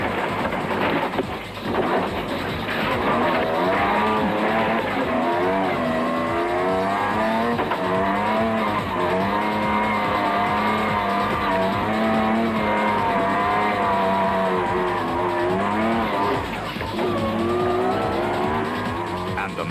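Rally race cars at the Carnival City 400 in 2007 on a muddy, treacherous track, engines droning loud and steady with rising and falling revs and tire squeals, with a commentator talking over it.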